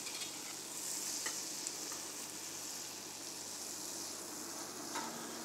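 Flour is stirred into foaming melted butter in a pot, a steady soft sizzle with faint scraping strokes continuing at an even, low level throughout.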